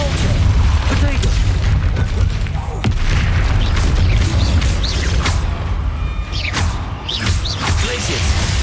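Repulsor spell cast in the Hogwarts Legacy game, heard as repeated booming thuds and whooshing bursts over a dense, continuous rumble of game action, loud and close throughout.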